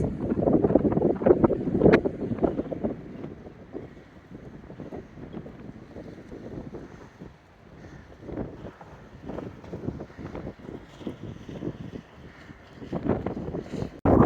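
Gusty wind off San Francisco Bay buffets the microphone in heavy rumbling bursts, rising and falling, with no speech.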